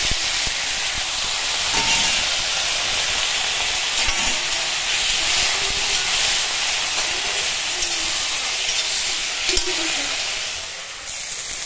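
Boiled potatoes frying in a pan with raw turmeric make a steady, hissing sizzle like steam, fairly loud and continuous, with faint clinks now and then.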